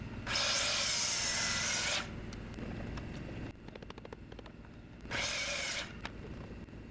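A power saw cuts wooden deck posts in two loud bursts, each a close high whine lasting a second or two, separated by quieter clunks and handling of the timber between cuts.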